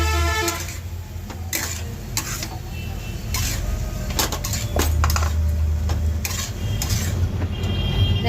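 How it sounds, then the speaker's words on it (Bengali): Soybean chunks tipped into a pan of cooked spice paste, with scattered clinks and scraping stir sounds over a low sizzling hum, intermittent and close, no talking. "এবার আমি সয়াবিনগুলো দিয়ে দিচ্ছি।"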